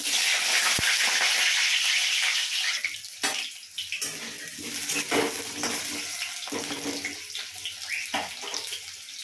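Potatoes fry in hot oil with a loud, steady, hissing sizzle that fills the moment. A few clattering knocks break through the spitting oil, with no talk.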